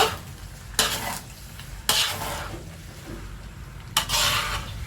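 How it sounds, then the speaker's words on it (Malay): Pasta sauce with oregano being stirred in a pan, a soft frying sizzle running throughout while the spoon scrapes the pan in three distinct strokes. "So kita kacau."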